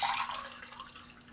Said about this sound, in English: I'm going to put the water right in there.